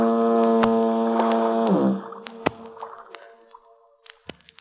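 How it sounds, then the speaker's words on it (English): A deep foghorn on San Francisco Bay booms in one long, loud sustained blast lasting about two seconds, then cuts off, leaving scattered faint clicks and short noises. "that symphony of foghorns booming across the bay"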